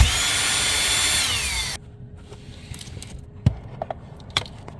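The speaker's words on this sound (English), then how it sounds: "We'll use a Torx to remove that screw." A power driver with a Torx bit whirs steadily and loudly for almost two seconds while removing a screw from the AC filter cover behind the glovebox area of a Tesla Model 3/Y, then stops, followed by a few faint clicks and taps.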